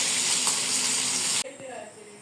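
Rohu fish frying in hot oil in a home kitchen, a steady loud sizzle that cuts off abruptly partway, leaving quieter kitchen noise and faint sizzling.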